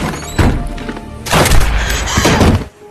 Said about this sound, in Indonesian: Teresa sudah bersiap dan menembak Paco dengan pistol Ignacio.